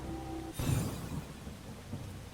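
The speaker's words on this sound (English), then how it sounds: "Ah yes, rain." Hard rain in the video game Starbound, a broad steady hiss with a sudden loud rumbling burst like thunder early on, then continuing as a dense wash of falling water.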